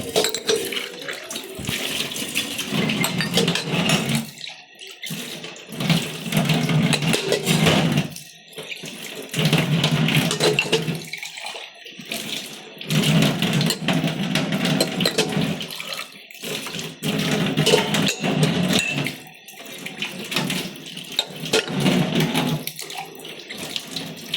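Tea cups are washed under a running tap, with water gushing in bursts that stop and start, splashing and clinking faintly in a sink, close and without speech.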